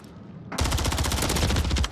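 Rapid gunfire from the Modern Warfare III video game, a sustained burst of loud, closely spaced shots that starts abruptly after a quiet lead-in and runs without pause to the end.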